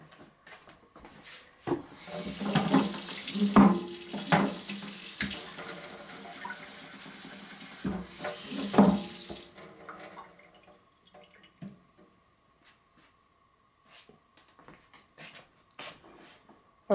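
Water pours and splashes steadily in bursts onto a potted fig tree cutting in damp soil for several seconds, with a few knocks and clatters, then fades to quiet with faint drips.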